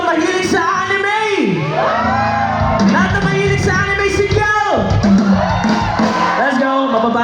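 Concert crowd at an outdoor amphitheater in BGC yelling and whooping together on cue, a loud, sustained mass of voices with rising and falling shouts, close and dense.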